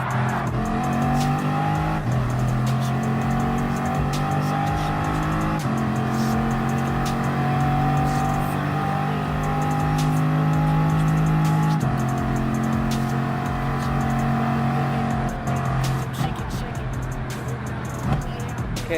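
Bugatti Vision Gran Turismo race car engine in Gran Turismo Sport, whining steadily at high revs and dropping in pitch through gear changes and braking for chicanes, continuous and loud with tire noise and a voice talking over it.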